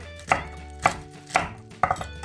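Four evenly spaced knife chops on a cutting board, each a crisp, close thud, from slicing cabbage for nabak kimchi. No voices are heard.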